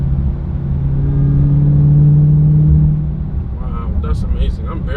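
A 2022 Dodge Charger Hellcat wide body revs up from idle, a deep, loud engine rumble swelling to a peak and then falling back, heard close from inside the car, with a voice briefly joining near the end.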